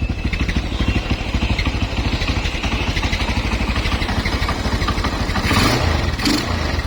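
A used black 225cc motorcycle engine idles steadily up close, a rapid even putter with mechanical clatter throughout, a brief rev or knock near the end.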